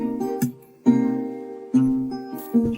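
An isolated guitar part from a sample, split away from its vocals, plays a few ringing chords spaced evenly, each struck cleanly and left to decay into near silence before the next.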